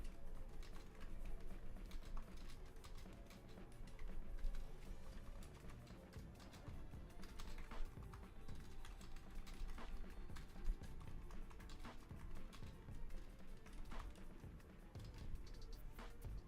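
Keys on a computer keyboard clatter in quick, irregular bursts of close, fairly quiet clicks, pausing briefly now and then, with no voices.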